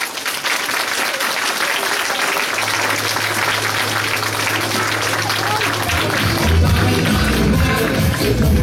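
Audience applauding Christian Gabriel at a live show, steady dense clapping throughout, swelling a little louder toward the end, with a low hum running underneath.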